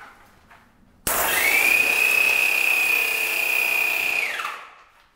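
An airless paint spray gun with its original old filter and tip, pump driving paint through, starts abruptly and hisses loudly and steadily for about three seconds, then cuts off.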